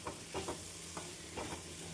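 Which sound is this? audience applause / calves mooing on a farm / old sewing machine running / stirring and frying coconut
stirring and frying coconut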